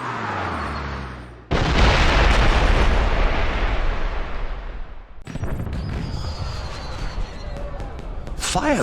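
Fireworks explode in the James Bond 007 Blood Stone video game, with two heavy booming bursts followed by long crackling, rumbling decay over a steady game soundscape.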